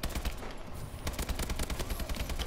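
Rapid automatic gunfire from Call of Duty: Advanced Warfare rattles continuously at a fast steady rate, loud and dense with no speech.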